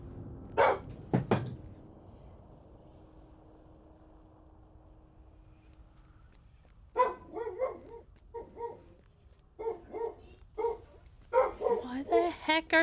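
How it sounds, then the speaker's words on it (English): A pet dog barks indoors, a pair of sharp barks at the start, then after a quiet gap a run of repeated barks and yips mixed with a person talking nearby. "Why the heck are my dog barking at?"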